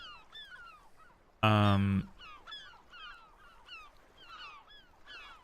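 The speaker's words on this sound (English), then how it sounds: "You can sort of hear birds calling and cawing in the distance." Repeated bird calls echo in the distance, with a loud, harsh honking cry bursting out briefly in the middle.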